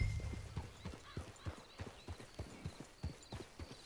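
Horse hooves in the Red Dead Online video game clip-clop in a steady, even walking rhythm of repeated distinct hoofbeats, with no talk.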